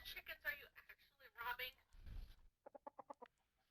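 A short burst of Minecraft chicken clucks, several quick evenly spaced clucks, comes after close talking voices and stands alone at the end.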